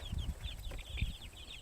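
Chickens on an organic farm cluck in short bursts as they come running out, with soft scattered calls and some higher chirps, fairly close.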